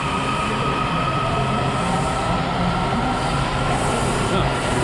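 A subway or metro train runs past on a snowy day, a steady loud rumble with rail hiss filling the whole stretch, some faint voice underneath.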